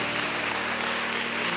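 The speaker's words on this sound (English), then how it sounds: "Let's clap our hands unto the Lord." A church congregation claps hands together in worship, a brief, dense and even wash of clapping heard up close.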